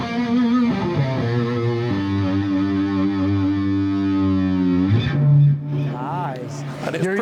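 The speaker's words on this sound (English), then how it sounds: "I've got the lead channel, which is a bit more gain, more volume, and reverb and delay." Sustained distorted electric guitar lead notes on a higher-gain lead channel, with a smooth echoing reverb and delay tail, sliding between pitches, loud and close.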